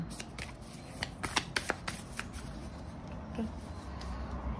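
Oracle cards from a self-love deck being shuffled by hand, a run of soft, crisp riffling flicks and taps at close range, with faint speech-like murmur in the background.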